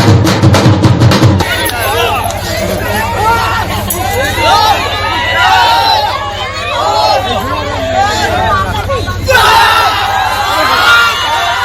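Devotees crowd a Ram Navami festival in Simdega, a loud, dense babble of many voices with scattered shouts and cheers, preceded by a brief burst of rhythmic music.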